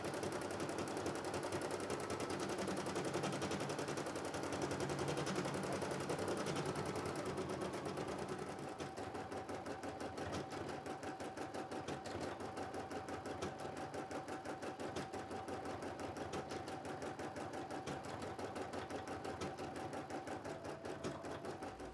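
An embroidery machine stitching the eye onto a plush toy over an applique seam, a steady fast mechanical whir with a continuous rapid needle rhythm that shifts tone partway through, running unbroken and close with no voices.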